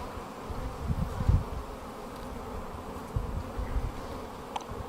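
Honey bees buzz in a steady dense hum from an opened hive, the drone swelling in a few brief louder bursts nearby, with no talking.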